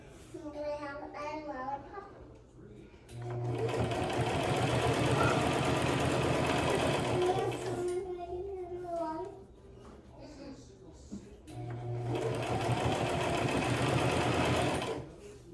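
A sewing machine stitches a simple fabric face mask in two long runs of steady, fast motor whirring. Between the runs a child and an adult talk.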